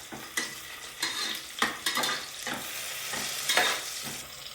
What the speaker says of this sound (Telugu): ఎర్రగడ్డలు బాగా ఎర్రగా వేగాలి. ఇలా వేగితే బాగుంది, ఇంకా వేగాల.